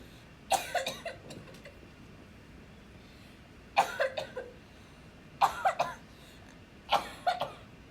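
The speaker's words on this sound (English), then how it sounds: "You've probably been coughing so hard you broke a blood vessel." Four bursts of harsh coughing, each a quick cluster of two or three coughs, separated by quiet pauses, fairly close.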